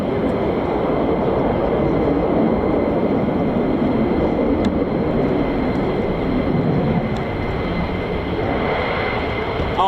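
A military fighter jet making a tactical takeoff at RAF Lakenheath roars as a broad, continuous wall of jet noise, steady and fairly distant, with no talk.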